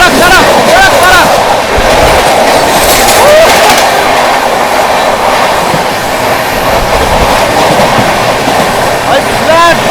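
A passenger train, the 12329 West Bengal Sampark Kranti, rolls steadily over the rails, heard from on board with a constant loud rumble and wheel clatter, while a voice talks over it.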